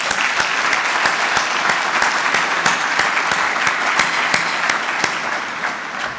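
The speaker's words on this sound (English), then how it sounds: "Let's give Warren a big round of applause." An audience at a regional all-star high school sports gala gives Warren sustained applause, a loud, even wash of many hands clapping without pause.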